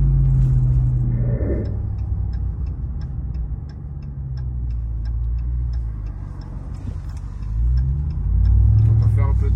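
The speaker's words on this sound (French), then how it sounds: "Mais le son du compresseur, je trouve ça dingue." A Ram TRX pickup's supercharged engine drones steadily while driving, a deep rumble with a faint regular ticking running throughout and a slight swell near the end.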